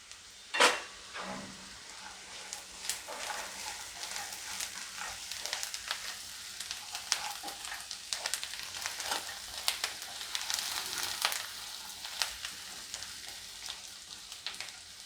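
Onions frying in a pan with fennel seeds and sugar for Indori poha, a steady close sizzle with scattered stirring scrapes and a sharp clink near the start, no talking.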